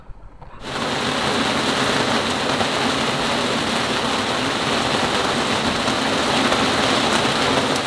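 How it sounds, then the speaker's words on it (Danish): A heavy rain shower sweeps in at an anchorage, switching on abruptly after a brief quiet moment and then holding as a dense, steady, loud hiss of rainfall for the rest of the stretch. "Desværre har vi lige bag ved os en ret stor regnbyge, tror vi."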